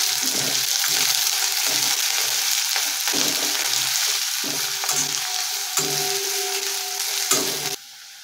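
Sliced onion sautés in a pan with a continuous bright sizzle, broken by several soft stirring knocks and scrapes, close and fairly loud until it drops away near the end.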